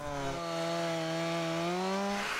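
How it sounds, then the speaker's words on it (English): A chainsaw runs in the background at the annual Chainsaw Carvers Rendezvous in Ridgway, Pennsylvania, in February, its steady buzzing engine note slowly climbing in pitch and staying fairly loud throughout, with no talking. "you hear a chainsaw in the background"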